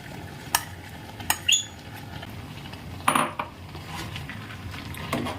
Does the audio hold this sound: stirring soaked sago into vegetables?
yes